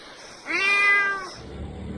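A cat rescued from a flooded, damaged roof gives one clear, drawn-out meow at close range. Low background noise follows.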